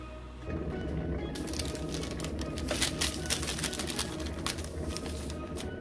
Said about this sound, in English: So I'm just going to let the kettle boil.